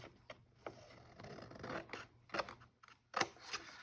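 Scissors trimming paper for a Bible study craft project, with several close snips and rustling paper cuts in an uneven rhythm and no talk.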